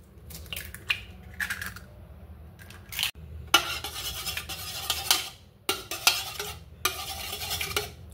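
Eggs whisked into a mix of condensed milk and milk in a bowl, heard up close as bursts of rapid scraping and clinking beating, separated by short pauses, with no talking.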